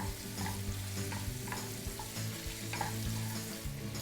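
Lobster pieces frying with salt and pepper in a pan for lobster bisque give a steady close sizzle, with occasional stirring scrapes and clinks over a low hum, no talk.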